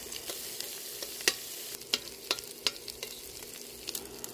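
Garlic, onion, ginger and smoked tinapa fish frying in oil in a pan, a soft steady sizzle broken by several sharp stirring clinks and scrapes, close and alone with no voices.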